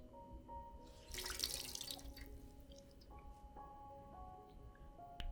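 Water trickles and drips into a basin while a wound is being cleaned, soft and close, with scattered drops and a brief splashy pour in a quiet room.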